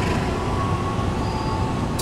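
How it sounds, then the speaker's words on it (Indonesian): Taksaka passenger train bound from Yogyakarta to Jakarta Gambir passing close by, locomotive and carriages making a loud, steady rumbling roar throughout. "langsung kereta api Taksaka dari Yogyakarta tujuan akhir Jakarta Gambir"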